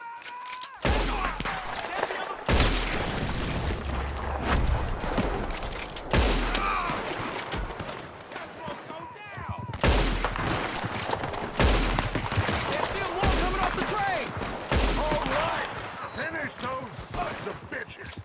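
Rapid bursts of gunfire rattle in repeated volleys during a train robbery in Red Dead Redemption 2, loud and close, with booming shots and brief pauses between barrages.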